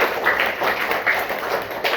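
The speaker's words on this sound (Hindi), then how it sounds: "ताली बजाइए एक बार।" An audience claps together at a speaker's request during a village gathering, a dense, steady patter of many hands lasting the full two seconds, fairly loud and close.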